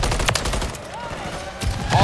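Gunfire from a Call of Duty: Modern Warfare III match, with sharp broadband bursts at the start and near the end of a continuous battle din, with a faint voice in the background.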